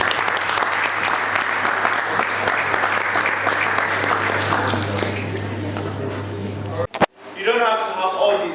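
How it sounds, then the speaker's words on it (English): Steady applause from an audience fills most of the clip, then stops abruptly and a voice begins speaking. "Clap."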